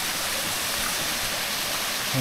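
A mountain stream rushes steadily nearby on a hillside property, a dense continuous watery hiss and burble with no pauses, and a brief voice comes in right at the end.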